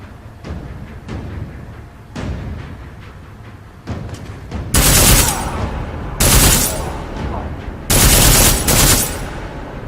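Bursts of rapid automatic gunfire in Deus Ex: Mankind Divided, several volleys spaced a second or two apart, growing louder and sharper toward the end.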